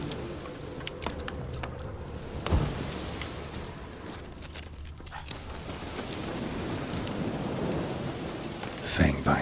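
Rain and rolling thunder in The Witcher 3, a steady wash of rainfall with low rumbles and a couple of sharper cracks, moderately quiet and continuous.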